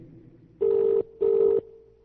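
A telephone line gives two steady, evenly spaced electronic tones during a connection that fails to go through, clear and alone over faint line hiss.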